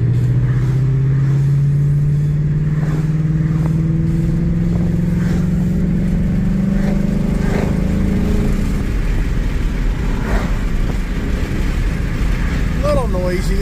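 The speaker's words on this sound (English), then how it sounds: "A little noisy, isn't it? That wind gets you, doesn't it?" Wind and road noise roar steadily inside a moving car being driven over a bridge into Virginia, with a rising engine drone and occasional bumps, close and continuous.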